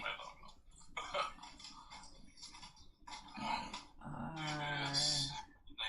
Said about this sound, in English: It's a mini American Eskimo size, but she has the regular bark and growl